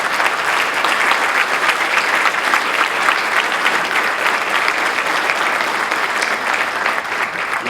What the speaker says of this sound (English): And I'd like to give them a big round of applause.